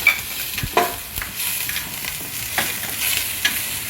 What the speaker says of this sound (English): Fry till the onion is a little bit pale and wilted, and let it caramelize.